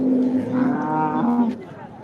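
A buffalo at a cattle market lets out a long, low, droning moo lasting about a second and a half, loud and close, with crowd murmur and market noise beneath.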